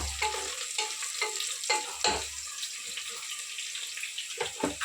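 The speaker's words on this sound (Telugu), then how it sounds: "పచ్చిమిరపకాయలు కొంచెం లైట్గా ఫ్రై చేసుకుందాం" Green chillies, cut into pieces, fry lightly in a pan for a mutton curry, a steady close sizzle broken by repeated scraping stirs of the spoon, with no voices.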